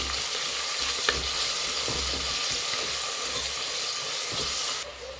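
Tomatoes fry in hot tempering oil for a plain pulao and are stirred now and then, giving a loud, steady, hissing sizzle that dominates, with scattered scraping strokes beneath it and no speech.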